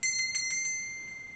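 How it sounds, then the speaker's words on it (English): A small bell rings with several quick, bright strikes in a burst, then its clear metallic tone lingers and slowly fades. "The bell, heart of the bell pounds against the side to emit the vibration and call us."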